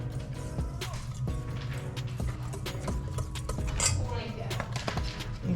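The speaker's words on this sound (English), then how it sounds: "Whisk that together." A whisk clicks and taps rhythmically against a bowl while mixing baking powder, baking soda and salt into dry cookie ingredients, close by, with soft clattering throughout.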